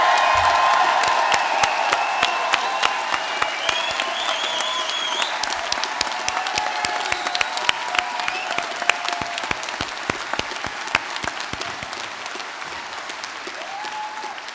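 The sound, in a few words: graduation audience applause and cheering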